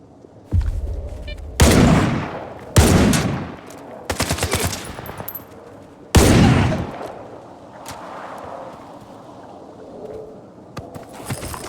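Gunfire erupts in the STALKER 2 video game: sharp, loud bursts of automatic shots and single cracks in several separate volleys, with a quieter stretch of echoing battle noise afterward.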